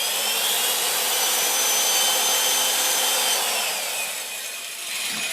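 A RIDGID 700 power drive turning pipe in a RIDGID 258 pipe cutter gives a steady, fairly quiet mechanical whir with a hissing, grinding texture, continuous and unbroken with no talk.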